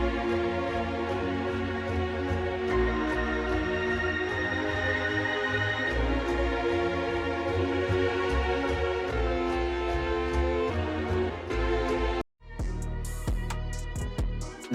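A dark orchestral sample with sustained high strings from Arcade plays as layered, slowly shifting chords, steady and full. After a brief cut near the end a sparser passage follows.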